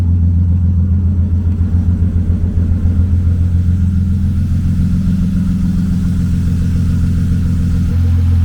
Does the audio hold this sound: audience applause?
no